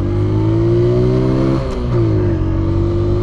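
A Honda motorcycle engine revs loud and close in a steady droning roar, its pitch dipping briefly midway and then climbing again.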